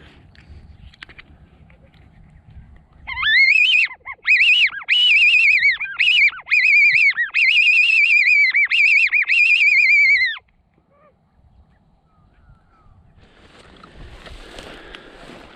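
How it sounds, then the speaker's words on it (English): A high, warbling whistle blown in a series of wavering squeals for several seconds, loud and close, with quiet outdoor rustling before and after. "I got my fox whistle today, so I'm going to give it a crack."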